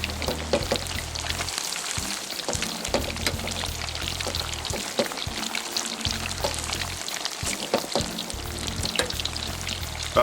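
Chicken wings frying slowly in a pan over a burner, browning and crisping, give a steady dense sizzle with crackling pops and small scraping stirs, loud and close, with no voices.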